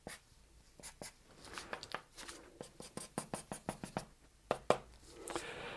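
Pen or pencil drawing comic figures in detail on paper, a quick run of soft scratchy strokes and taps, close and fairly quiet, building into denser bursts toward the end.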